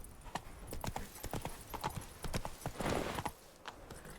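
Roach, a horse in a video game, trots over rough terrain, its hooves clip-clopping in a quick, steady rhythm, quiet and close with no other sound.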